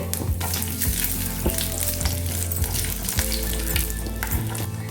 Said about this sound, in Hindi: मैंने लिए है हाफ कप मूंगफली, इसे फ्राई कर लेंगे।